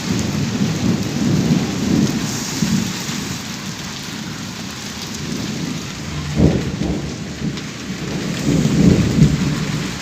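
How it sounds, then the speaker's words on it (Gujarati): Heavy rain pours steadily with low rolling rumbles of thunder swelling and fading, fairly loud and close, with no voices. "વાત ન પૂછો એટલો વરસાદ આવે"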